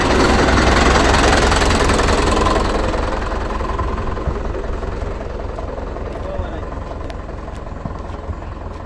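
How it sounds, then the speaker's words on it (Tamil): A Mahindra farm tractor's diesel engine runs loud and close with a rough, knocking chug, then drops to a steadier, somewhat quieter throb as it pulls away. "அவ்வளோதான், வண்டி கிளம்புது"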